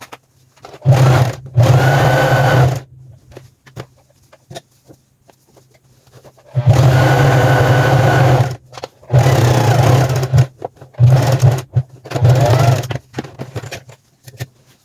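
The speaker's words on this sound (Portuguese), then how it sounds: "Aqui eu vou passar... uma overlock aqui, dando o acabamento, tá?" An overlock serger runs in several loud bursts of steady mechanical whirring, separated by short pauses, while it finishes the edge of an elastic waistband on a pair of trousers. There is no talk.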